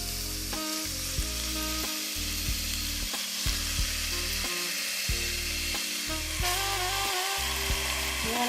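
Ground beef sizzling in a pan with sautéed onion and garlic, a steady frying crackle punctuated by repeated knocks and scrapes of a utensil stirring.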